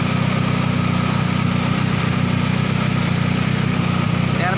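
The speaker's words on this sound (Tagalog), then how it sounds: "Ayan po, napakatining din po ng makina." A Toyota small-body XL5 engine idles smoothly, a steady low rumble with even pulsing and no change in pace throughout.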